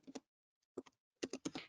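Short bursts of clicky keystrokes on a computer keyboard while data is entered into a financial reporting tool, a couple of keys at first, then a pause, then a faster run of taps, close and fairly quiet.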